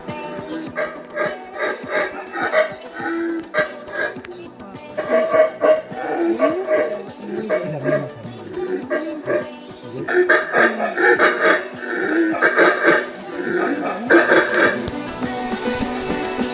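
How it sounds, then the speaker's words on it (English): Howler monkeys roar from the Guatemalan jungle near a Mayan pyramid, a steady chorus of rising and falling deep howls in repeated waves, fairly loud and continuous. "some howling monkeys."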